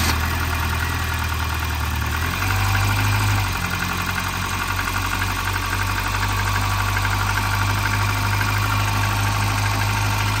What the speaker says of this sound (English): We gonna get idle out of it? No. Go ahead, crank it again.